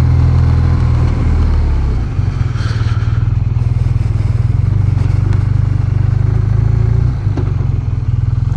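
BMW R12 boxer motorcycle idling close by, a loud, steady low engine throb with a slight rise in pitch partway through and faint mechanical clatter on top.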